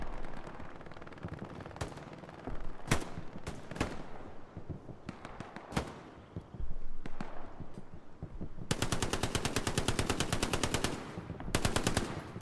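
Gunfire in the World War II video game Hell Let Loose, on the Utah Beach Chapel map in a competitive console match. Single cracks and bursts give way to long rapid automatic volleys, loud and close, with no talking.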